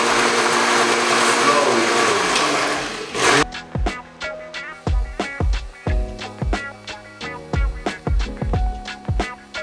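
An electric mixer or blender whirs steadily while deviled egg yolk filling is mixed, then cuts to a series of sharp rhythmic taps and knocks as oil is added; a voice speaks briefly.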